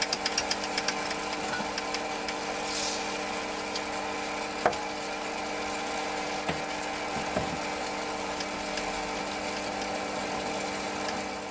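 A mini lathe's electric motor runs steadily on its bracket through a belt drive, giving a continuous mechanical hum with a few faint clicks and knocks and no talking.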